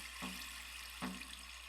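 Water flowing in Minecraft, with two soft splashy gurgles about a second apart over a quiet, steady background.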